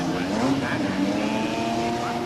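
A 1986 Formula One car in qualifying trim at the British Grand Prix roars and spins off, a loud sustained engine blare with a rising whine, while a commentator talks over it.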